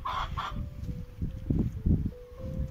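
Chickens cluck and crow in a coop, with several bursts of clucking spread across the clip and a faint steady hum behind them, close and fairly loud.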